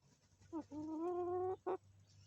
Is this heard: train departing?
no